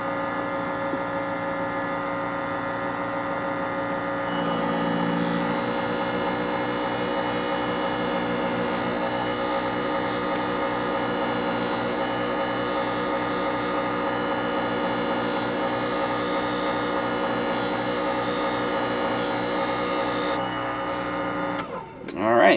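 A sharpening machine polishes the edges of a left-hand beauty shear, a steady, loud mechanical whine and hum that runs for most of the stretch, then cuts off near the end, with voices under it.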